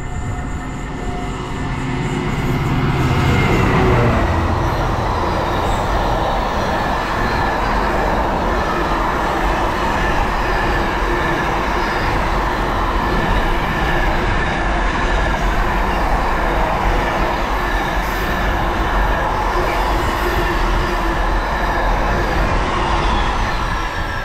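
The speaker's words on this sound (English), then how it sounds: "we've got another freight coming through" A freight train passes through a station on the Edinburgh to Berwick-upon-Tweed line, with a loud, sustained rumble and clatter of wagons close by that continues steadily throughout, with no speech.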